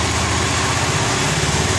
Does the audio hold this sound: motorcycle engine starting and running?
yes